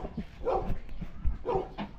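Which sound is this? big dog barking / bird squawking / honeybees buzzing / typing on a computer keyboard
big dog barking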